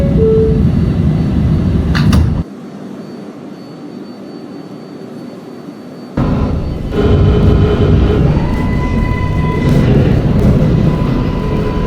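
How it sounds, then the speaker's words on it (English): Subway train doors on a Manhattan-bound 7 local in a Roblox game slide shut with a brief clunk, then a quieter lull before loud motor and rolling noise resume as the train moves. "Stand clear of the closing doors,"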